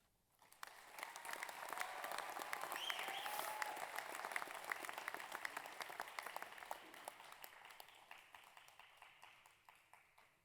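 An audience at a Massey University graduation ceremony in Manawatū claps in a sustained, even wave of applause that swells after a quiet start and holds for about ten seconds before thinning slightly.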